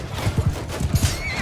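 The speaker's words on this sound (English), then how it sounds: "see how they just stopped that horse in his track?" A horse in the Mount & Blade II Bannerlord video game whinnies shrilly over a rapid clatter of galloping hooves, amid dense battle noise.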